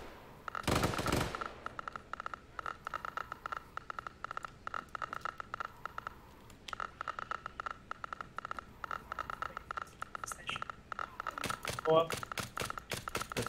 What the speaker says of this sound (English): That's me firing a zombie